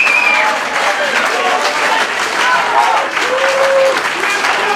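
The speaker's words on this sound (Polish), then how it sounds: "Brawa dla zwycięzcy, ale brawa również dla Adriana." Crowd applauding for the fighters after a main-event MMA bout, a loud, continuous wave of clapping and cheering with shouts and voices layered throughout.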